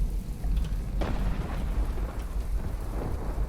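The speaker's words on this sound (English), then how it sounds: "This storm has been following me around." Thunderstorm in the naval combat game From the Depths: a deep, continuous low rumble of thunder and rain, swelling with a sharper crack near the one-second mark, loud and steady with no talking.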